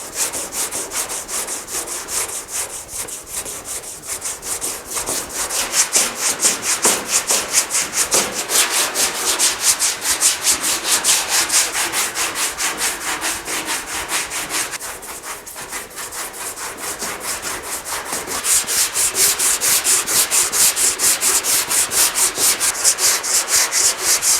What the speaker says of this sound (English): I already had some 60 grit on this long Dura block, so I'm just going to go ahead and block it out lightly with that